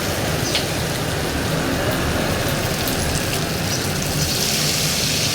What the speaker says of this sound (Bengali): এই যে পানি দিয়ে নিলাম।